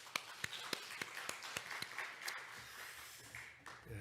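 A congregation claps in a church service, a sparse run of a few distinct claps rising into light, faint applause that fades near the end, with no talk over it.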